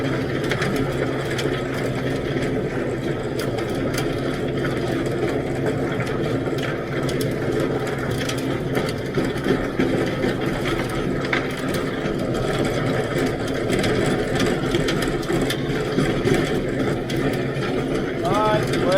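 A Kubota M7060 tractor tills garden soil, a steady mid-distance engine drone with rattling clatter throughout and a voice talking over it.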